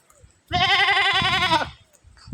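A goat near a village pond gives one long, loud, wavering bleat lasting about a second, close by, with quiet outdoor background before and after.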